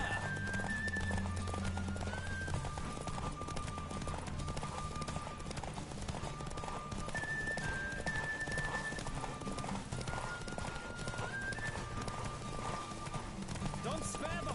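In The Witcher 3, a horse races along in a long, continuous gallop with driving rhythmic hoofbeats and an occasional neigh, under music and a voice talking at times.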